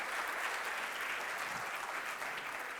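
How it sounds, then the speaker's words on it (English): Audience at an annual luncheon applauds a minister after his guest-of-honour speech, a sustained even wash of many hands clapping, soft and somewhat distant. "can we give the Minister another round of applause"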